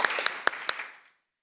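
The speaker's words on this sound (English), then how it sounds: "we're going to clap at each one" A brief burst of audience clapping, a few sharp claps standing out, fading quickly into silence.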